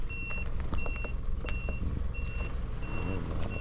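An Isuzu Elf truck reversing, its backup alarm giving a steady series of about six evenly spaced beeps over a rumbling diesel engine and outdoor noise.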